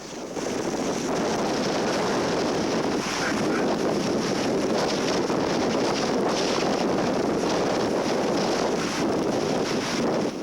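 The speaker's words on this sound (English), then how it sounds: "But Liskey won't take cover until the wind reaches 80 knots" Strong wind roars steadily on the sea off Alaska during king crab fishing, buffeting the microphone with broadband rushing noise and a constant churn of water throughout.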